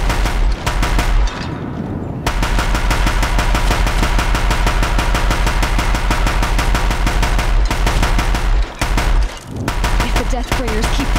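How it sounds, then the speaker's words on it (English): Deathbringer war machines in the Horizon Zero Dawn video game unleash sustained rapid machine-gun fire, a loud dense barrage that runs almost continuously with a couple of brief gaps, mixed with booming game effects. "Deathbringers keep firing, this bridge will go!"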